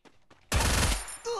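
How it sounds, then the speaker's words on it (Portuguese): A sudden loud burst of rapid gunfire in a battle royale video game, a dense volley lasting about half a second after a few faint, quiet sounds, then fading into a short echoing tail. "Um tiro em cima do galpão"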